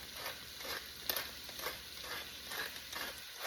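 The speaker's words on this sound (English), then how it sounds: "So we are going to let this just saute a little bit and let it get soft." Seasoned vegetables for a creamy potato soup sauté in a pot, a quiet hiss broken by rhythmic stirring scrapes roughly every half second, with no one speaking.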